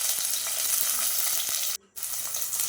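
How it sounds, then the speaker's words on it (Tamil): Onion sizzling in hot oil with cumin seeds while a chickpea, cauliflower and potato curry base is cooked; a steady bright crackle fills the clip, broken briefly by a sharp hiss and a short near-silent gap. "அந்த வெங்காயத்தை போட்டுக்கலாம்."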